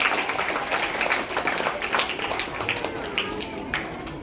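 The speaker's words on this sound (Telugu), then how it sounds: "ఒక్కసారి అనితకు మనందరం క్లాప్స్ కొడదాం గట్టిగా." A classroom audience claps for a student, a dense, steady burst of many hands applauding together at close range that fades slightly toward the end.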